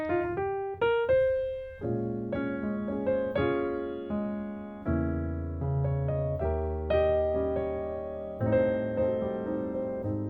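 Solo piano playing rich block chords in the sixth-diminished style, one after another, each ringing out fully before the next, in a slow, relaxed jazz harmony.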